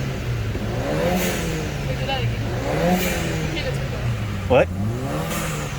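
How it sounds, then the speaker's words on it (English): A 2014 Ford Escape's engine revs several times in quick succession, its pitch rising and falling in waves at close range, with a voice speaking briefly over it. "sometimes what we do is just rev it a few times real quick"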